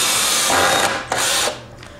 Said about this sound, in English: So what I suggest is drilling your first hole